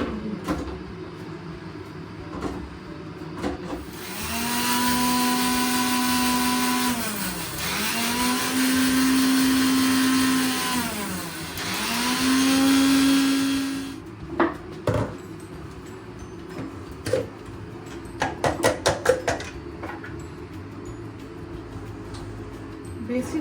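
Mixer grinder dry-grinding poppy seeds in a home kitchen: three loud whirring bursts of a few seconds each, motor pitch dipping between pulses, followed by clicks and clatter of the jar.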